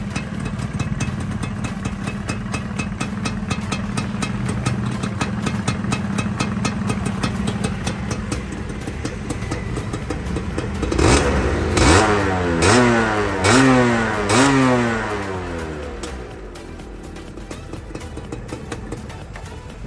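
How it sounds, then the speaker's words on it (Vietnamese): A Xipo 110 motorcycle engine idles with a steady, close putter, then revs up in several quick rising and falling bursts before settling back to idle. "em cho mọi người nghe phần máy nha"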